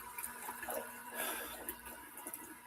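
Water running from a tap or faucet, a soft continuous trickle and splash, faint and close, with no talk.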